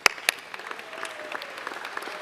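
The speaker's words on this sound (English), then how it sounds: "We can give February a clap." Conference audience applause, a couple of sharp claps up front followed by light, scattered clapping that thins out and stays fairly faint throughout.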